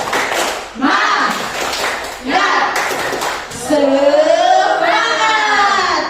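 A standing group in an Indonesian class performs a rhythmic spirit clap in bursts of loud, close claps, with voices chanting and speaking between and over the clapping.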